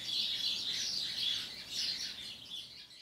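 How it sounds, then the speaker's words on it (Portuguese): Songbirds sing outdoors, with high chirps and trills rising and falling in a continuous chorus, fairly faint and distant, with no voices. "Os passarinhos estão cantando bastante nesse exato momento."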